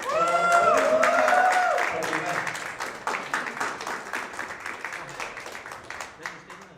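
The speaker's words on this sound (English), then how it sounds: "Round of applause for Sean." An audience at the final of a tournament arena open bursts into applause, a loud crowd clapping that starts full and then thins into scattered individual claps, with someone speaking over the start.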